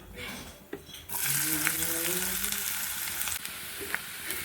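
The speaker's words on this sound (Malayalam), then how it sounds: "ഇനി ഇതിലേക്ക് നമുക്ക് സവോള ചെറുതായി അരിഞ്ഞു വെച്ചിട്ടുണ്ട് അതിടാം" Chopped onions hitting hot oil with cumin seeds, a loud steady sizzle that starts abruptly about a second in and continues with faint stirring scrapes and clinks throughout.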